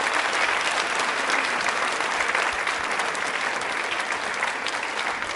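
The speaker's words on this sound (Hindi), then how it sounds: "तालियां जोरों से बजाइए," Loud audience applause at a university quiz show held for International Women's Day, with many hands clapping in a dense, steady roar that holds at full strength throughout.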